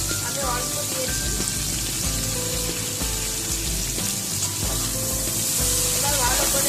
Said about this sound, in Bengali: এবার আমি দিয়ে দিচ্ছি টক ভেন্ডি, বেগুন, আলু।